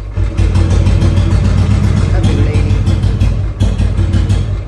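A Royal Enfield Bullet motorcycle engine runs loud and close with a deep, steady thumping rumble that surges briefly a couple of times, with no clear talk over it.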